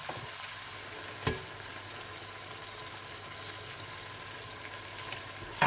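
Masala for black-eyed peas fries in a pan with a steady close sizzle and soft stirring, interrupted by one sharp clack of a utensil partway through and another at the end.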